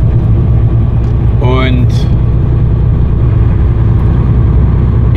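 A car drives along with a steady, loud rumbling cabin drone throughout, while a person speaks briefly over it.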